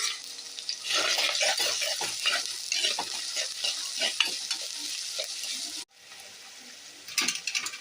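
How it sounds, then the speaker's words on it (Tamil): Onions sautéing in a pan for a Sankara fish curry, a loud continuous sizzle with rapid clattering stirring throughout, dropping briefly near the end before stirring resumes. "வெங்காயம் பாருங்கள் நல்லா வதங்குது"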